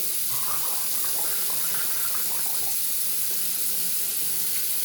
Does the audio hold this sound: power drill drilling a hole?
no